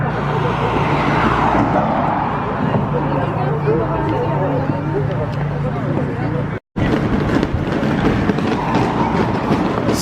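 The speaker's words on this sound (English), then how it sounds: "So many support vehicles." Steady roar of a stream of support vehicles driving past close by on a road at the Tour de France, continuous and loud with a brief cut partway through.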